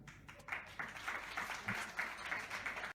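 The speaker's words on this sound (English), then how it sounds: "Oh, they still clap for him though." An audience applauds at a stand-up comedy show after a comedian's set ends, a light, scattered patter of clapping that carries on steadily for a few seconds.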